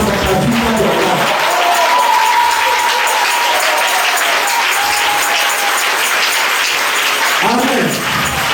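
A congregation at an annual church convention in Bouaflé, Côte d'Ivoire, applauds in a loud, steady crowd wash of clapping that lasts throughout, with a voice briefly heard over it.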